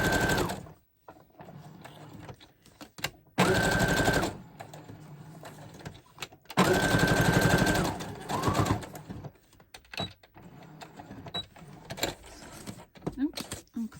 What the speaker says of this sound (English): I don't often work on my sewing machine